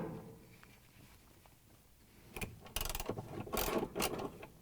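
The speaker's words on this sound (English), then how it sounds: "I'm going to use the 1/2" socket wrench." A 1/2 inch socket wrench ratchets on the bolts holding the drive motor of a Maytag washer, heard as faint handling noise followed by louder clustered clicking bursts toward the end, with no voices.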